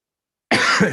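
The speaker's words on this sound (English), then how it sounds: "Pardon the cough." A single sharp cough from a man after a moment of silence, close and loud, with a short throaty tail.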